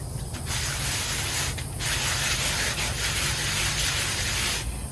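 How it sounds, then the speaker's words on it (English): Wet sanding with 150 grit sandpaper on a decorative craft tray, a steady close rasping scrub in repeated strokes with short pauses between passes. "Now we're going to start wet sanding this, and I'm using 150 grit at first"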